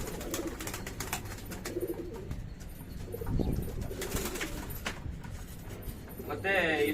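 Pigeons cooing softly in a pigeon loft in Yeshwanthpur, low throaty coos repeating against a busy background with someone talking nearby.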